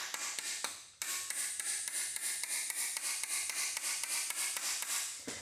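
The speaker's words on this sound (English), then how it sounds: "Hammer them about halfway in" Rapid, evenly spaced hammer blows ring out against metal as dowels are driven into a small-block Chevy engine block, a steady metallic tapping rhythm of many strikes with a brief pause near the start.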